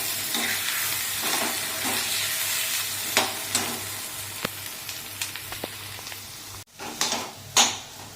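Tomato thokku frying in a pan while being stirred, a continuous close sizzle with scattered scraping clicks from the spoon and a few louder spatters near the end.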